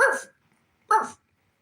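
A dog gives two sharp, loud barks close by, separated by a brief silence, with nothing else audible.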